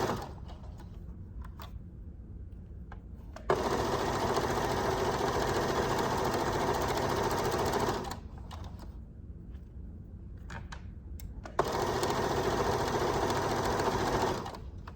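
A sewing machine stitches a square pillow, finishing with a back stitch onto an ender fabric: two long, loud bursts of steady whirring stitching separated by a quieter pause, with no talking.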